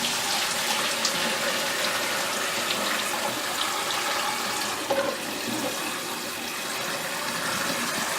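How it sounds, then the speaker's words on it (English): Water pours steadily and continuously, a full rushing splash that fills the whole stretch without pause, close by. "At the same time the hot water is going out, we're going to be pouring cold water in"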